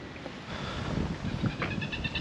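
Cold wind blowing steadily after rain along the Carretera Austral in southern Chile, a continuous broadband rush with gusty buffeting against the microphone, close and moderately loud, no speech.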